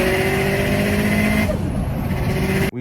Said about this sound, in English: Let me show you exactly what a Subaru sounds like.